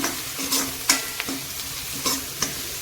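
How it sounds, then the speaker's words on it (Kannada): Turmeric powder being stirred into a sizzling pan mixture for a spiced potato dish, with a few distinct scraping strokes of a spoon over a low frying hiss, close and fairly quiet. "ಇದನ್ನು ಕೂಡ ಈಗ ಮಿಕ್ಸ್ ಮಾಡ್ಕೊತೇನೆ"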